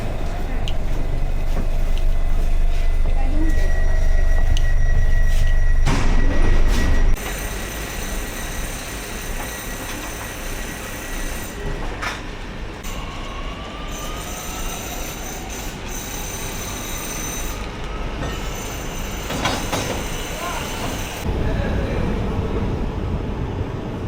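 A Paris metro train rumbles loudly and steadily nearby, with faint squeals of wheels on the rails as it runs, and no clear talk over it.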